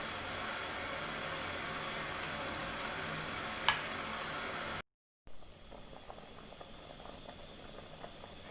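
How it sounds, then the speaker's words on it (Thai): Pot of Thai catfish soup with whole catfish at a hard, rolling boil: a steady, close bubbling hiss with a faint rattle, a brief cut, then softer continuous bubbling. "เดือดมากครับ"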